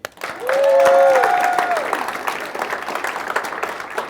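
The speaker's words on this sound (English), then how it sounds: "Let's give another round of applause to our keynote speaker, Hanif Joshaghani." A conference crowd at a startup accelerator demo day gives loud, dense applause for the keynote speaker, with a whistle or cheer rising early before the clapping thins slightly but continues.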